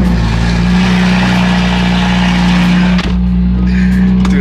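A BMW M3 CS with a loud aftermarket exhaust idles and revs up close, a deep steady engine drone with a brief dip before building again.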